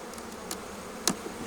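Honeybees buzz faintly around an opened hive, mostly calm, with a couple of brief louder buzzes as single bees pass close.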